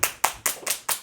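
A handful of sharp, evenly spaced claps, about five in just over a second, close and fairly loud with a quick decay after each, people applauding Mélo in a casual nail-painting setting.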